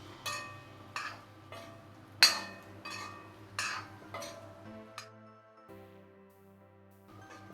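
Ivy gourd stir fry being turned in a pan, giving a series of light metallic clinks and scrapes from spoon on pan, about six distinct strikes spaced roughly a second apart, close and moderately quiet, with no voices.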